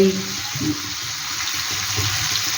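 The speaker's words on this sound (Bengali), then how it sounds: "এবার দিয়ে দেবো জল।" Water gushes into a pot of thin koi fish curry cooking with new potatoes and flat beans. The pour is a steady, fairly loud rush that lasts throughout.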